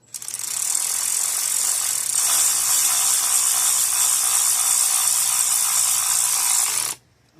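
A ratchet clicks rapidly and steadily up close while a spark plug is threaded slowly into a 2016 Hyundai Tucson engine, continuing for about seven seconds before stopping abruptly.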